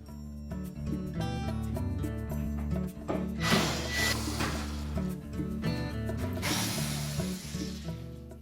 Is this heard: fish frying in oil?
no